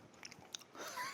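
Someone chews tough, dry meat with a few soft bites and crunches, faint and close, over a brief quiet stretch.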